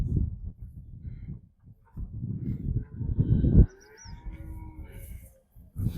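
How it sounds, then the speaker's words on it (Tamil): A large dairy cow at a livestock market gives low, rough lowing sounds in several bursts, close and fairly loud, with faint birdsong and background activity between calls. "சின்ன மாடு இல்லை, நல்லா பெரிய மாடுனா."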